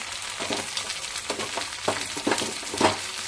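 Chicken sizzles and spits as it fries in a hot pan, with a steady crackle rising into several louder bursts as the pieces are turned, no voices present.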